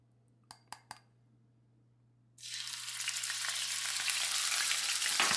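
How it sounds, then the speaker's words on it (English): Three quiet taps in near silence, then a tablespoon of garlic drops into hot vegetable oil in a pan and bursts into a loud, sustained close sizzle that keeps building. "you heat up the pan and you put some oil in it, any kind of oil, vegetable oil, anything. You put one uh, tablespoon of garlic in it."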